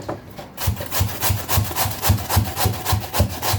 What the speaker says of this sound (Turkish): Şimdi önce patateslerimi rendeleyeceğim.